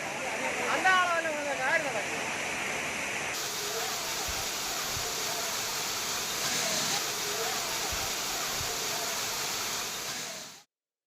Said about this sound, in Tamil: மழையின் காரணமாக திருப்பரப்பு அருவிக்கு தண்ணீர் சீராக வருவதால்